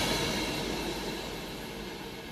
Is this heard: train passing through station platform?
yes